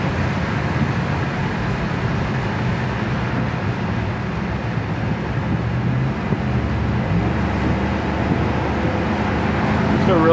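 A 1965 Chevelle SS convertible cruising at highway speed makes a constant rush of wind and road noise with a low engine drone underneath, while someone talks over it.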